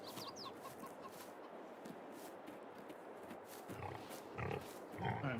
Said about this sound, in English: we got our pigs over here